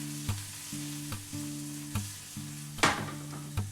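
Chili flakes and yogurt sizzle and fry in a hot pan, a steady close crackle broken by several sharp stirring scrapes and clanks, with one louder clatter near the end; no talking.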